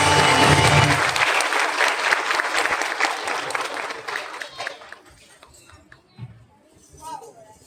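A school cultural program audience applauds loudly with dense clapping that gradually thins and fades over several seconds, leaving scattered claps and faint voices.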